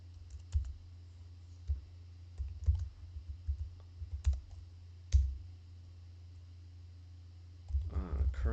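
Computer keyboard typing during live game programming, with sparse, uneven key clicks over a steady low hum, a few keys at a time with pauses between, fairly faint; a voice comes in briefly at the end.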